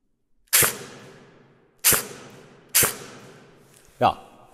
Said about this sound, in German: ich versuche hier vorne einfach mal durch das Loch da quasi durchzuschießen